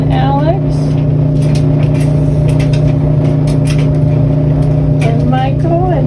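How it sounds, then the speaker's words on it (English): A clothes dryer running loud and steady, a constant low droning hum filling the background throughout, with people talking over it. "Sorry about the noise, but my dryer is going, so it is loud."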